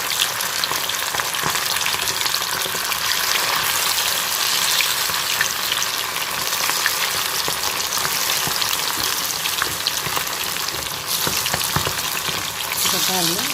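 Chicken 65 pieces deep-frying in hot oil, a dense, continuous loud crackling sizzle that holds steady throughout, close up, with no clear talking over it.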